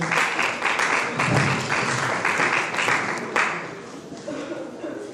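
A church congregation claps and applauds Esther at a special Sunday service, with steady dense clapping that fills the room the whole time and some voices mixed in.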